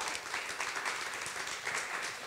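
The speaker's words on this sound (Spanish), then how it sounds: "Fuerte el aplauso, Elirio, por favor." A studio audience at a comedy talk show applauds a guest, a dense, even roar of clapping hands held steady throughout at moderate volume.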